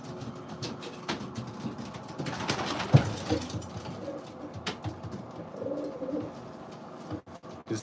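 Pigeons in a breeding loft give soft, intermittent coos amid faint rustling and shuffling, quiet and somewhat distant, with no one talking.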